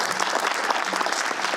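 A short burst of dense, steady audience applause at a literary competition reception, even and sustained with no pause.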